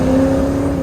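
A 1971 Chevrolet Chevelle engine pulls loud and close after a downshift, a steady droning tone holding briefly with no talk.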